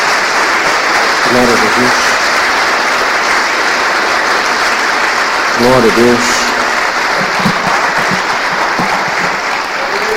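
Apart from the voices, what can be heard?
congregation applauding in church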